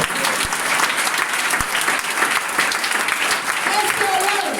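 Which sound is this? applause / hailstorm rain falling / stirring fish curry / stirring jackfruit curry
applause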